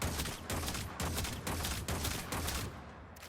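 Seer pistol fire in Warframe on PS4 rings out as a string of loud, punchy shots in an even rhythm, about five or six blasts with short decaying tails between them.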